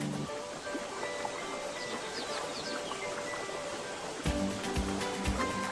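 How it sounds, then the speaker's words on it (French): Strong river current rushing steadily, a broad continuous wash of water close by, with faint bird calls above it and a slightly rougher, louder surge near the end. "Le fort courant de la rivière les effraie."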